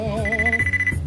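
A phone ringtone plays a bright, repeating electronic melody, loud and close, in a short burst with no talk over it.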